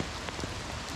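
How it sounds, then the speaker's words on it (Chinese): Heavy May rain falls in an urban village in Guangzhou after a dragon boat ceremony, a dense, constant wash of drops pattering on surfaces with no pauses. "仪式结束后不久就下起了暴雨"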